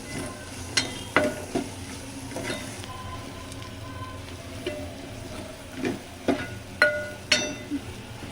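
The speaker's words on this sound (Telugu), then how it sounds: "సో వీటన్నిటిని బాగా ఫ్రై చేసుకోవాలి" Spices and chili powder fry in a pan for paya curry, a steady sizzle under repeated scraping stirs and occasional metallic clinks of a spoon against the pan, close and continuous.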